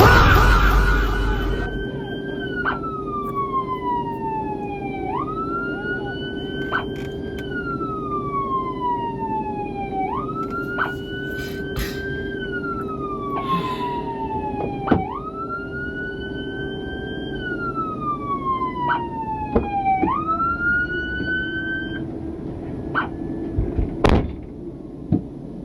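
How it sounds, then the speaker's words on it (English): A loud Georgia State Patrol car siren wails in repeated rising-and-falling cycles over a steady engine hum, ending with a few thumps near the close. "please turn the siren off"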